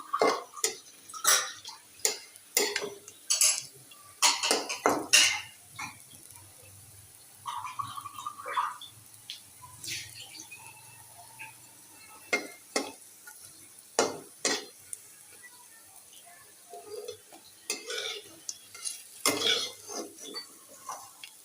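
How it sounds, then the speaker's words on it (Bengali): Lentil fritters frying in a pan and being flipped over, with repeated near scraping and clinking of a utensil against the pan in bursts over a faint steady sizzle. "উল্টে পাল্টে একটু লাল লাল করে ভেজে নিচ্ছি"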